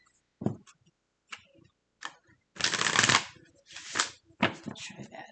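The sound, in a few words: shuffling tarot cards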